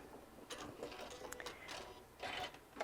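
A sewing machine runs in short bursts, stitching through a pocket and back-stitching at the bottom of an airplane-themed caddy, with a close mechanical whir that stops and starts in rhythm.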